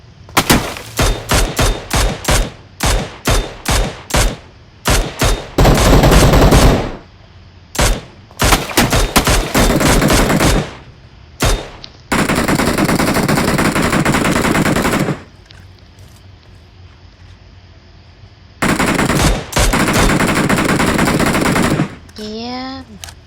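Video game gunfire: rapid single shots in quick succession, then long sustained machine-gun bursts, loud and close, with short pauses between volleys.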